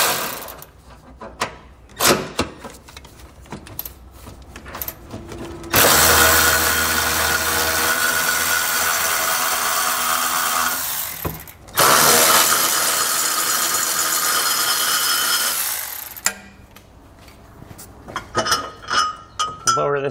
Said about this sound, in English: So we need to pull those out using a 14 millimeter socket.